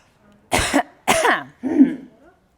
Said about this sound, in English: Sorry, weird cough.